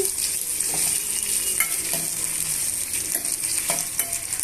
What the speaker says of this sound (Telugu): అల్లం వెల్లుల్లి పేస్ట్ వేసుకున్న తర్వాత పచ్చివాసన పోయేంత వరకు వేయించుకోవాలి